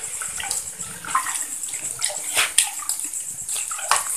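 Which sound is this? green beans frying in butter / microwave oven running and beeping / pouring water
pouring water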